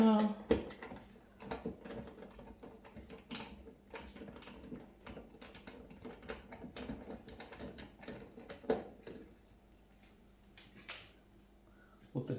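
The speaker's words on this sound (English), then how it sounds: "We use a T20 Torx screwdriver. Remove the two screws." Screws being backed out of the base frame of a Bosch dishwasher with a T20 Torx screwdriver, soft repeated clicking and ratcheting ticks, close and quiet, with some talk around them.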